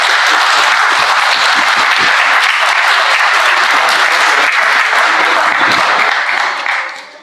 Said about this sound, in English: give both the candidates who came up here to talk a big round of applause